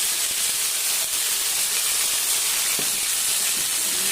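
Leafy greens dropped into a hot oiled pan send up a steady, loud broadband hiss of sizzling and steam that holds throughout, with no voices over it.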